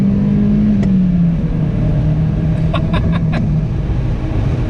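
A 1999 Mazda Miata NB under way, its engine holding a steady, droning note heard from inside the small car, with no one speaking.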